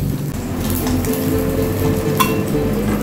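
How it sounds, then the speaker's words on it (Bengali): Puti fish frying in hot oil over raised heat, a steady close sizzle running through the whole stretch with a faint clink of a utensil near the end. "আঁচটা বাড়িয়ে আবার ভেজে নিচ্ছি, আঁচটা বাড়িয়ে দিলাম, আবার ভাজা হোক"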